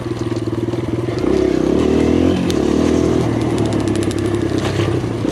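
A 2023 Kawasaki KLX140RF dirt bike engine drones steadily on a trail ride, rising in pitch and loudness as the throttle opens, with faint rattles from the chassis and no talk.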